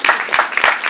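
A short burst of hand claps from an audience at a Korean film screening Q&A, several loud sharp claps in quick succession, close and alone.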